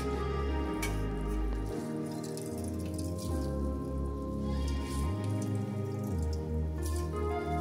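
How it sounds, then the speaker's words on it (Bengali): Water is squeezed by hand out of softened grated carrot, dripping and splattering steadily and close into a bowl, with soft squishing and no talk. "এবার আমি গাজরটাকে চিপে নিচ্ছি।"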